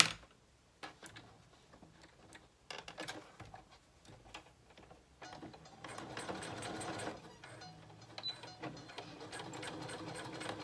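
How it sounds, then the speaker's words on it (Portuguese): A sewing machine stitches through fabric for a rabbit doll, its rapid mechanical chatter starting and stopping in short runs before settling into a steady, close, fairly quiet whir. "Então, eu vou passar a costura aqui de uma vez, no meio dele aqui, na beiradinha."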